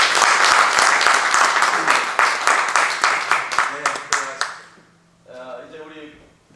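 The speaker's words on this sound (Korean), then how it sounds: "박수 한번 보내주세요" Audience applause at a Korean church council's annual general meeting for the president and two vice presidents, loud and sustained, then tapering to individual claps before a voice speaks briefly at the end.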